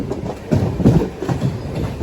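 A MEMU passenger train on the Nidadavole–Narsapur–Vijayawada line rolls along with loud, close clickety-clack, its wheels thudding over rail joints in a quick, uneven beat under a rumbling carriage roar.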